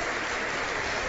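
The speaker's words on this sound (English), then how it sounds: "You should give yourself an applause." Brief audience applause at an author talk, a short steady patter of many hands, fairly quiet and even, with no voices over it.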